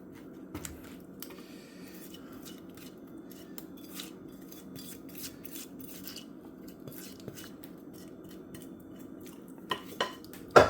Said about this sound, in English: Put all my peaches in my baking pan, even them out.